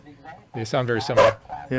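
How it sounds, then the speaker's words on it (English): A dog barks in short, loud, close bursts while people talk over it, with a man's dog-like vocal sounds mixed in. "that's a dog barking."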